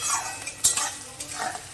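Onion frying in oil with a little sugar, stirred with a utensil: soft steady sizzle with scraping strokes, one sharper clatter near the middle, close and fairly loud, no voices.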